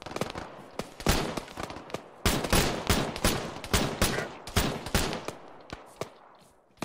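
Rapid gunfire from a military video game, with bursts of close, loud shots cracking in quick irregular succession over several seconds.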